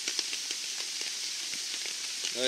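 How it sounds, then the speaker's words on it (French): Rain pattering steadily on a tarp shelter at a bushcraft camp, a dense continuous hiss with scattered droplet taps, heard close at moderate loudness with no talking. "Tito reste sous la pluie"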